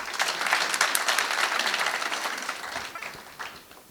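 An audience at a motivational lecture applauds in a burst of dense clapping that peaks early and gradually thins and fades out.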